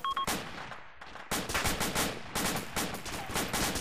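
Automatic gunfire in a video game, coming from firing points across a road: a few quick shots, a short lull, then sustained rapid bursts of machine-gun fire at steady, fairly loud volume.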